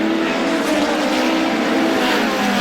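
NEMA race cars roaring around Star Speedway during a 25-lap feature, a loud, continuous engine drone with a steady pitch and slight swells as the cars pass.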